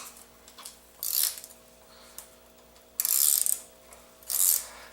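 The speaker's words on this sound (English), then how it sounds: "I'm going to change that to like an open-end wrench to finish this off" An open-end wrench loosens the fork cap on a Honda CB motorcycle, with a few short bursts of close metallic clicking and scraping separated by quiet pauses.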